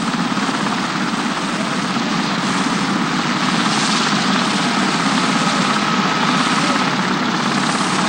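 A helicopter running continuously close by during 1970s power-line work, its rotors producing a loud, steady broadband roar with a dense whooshing throb that holds unchanged throughout, with no voices.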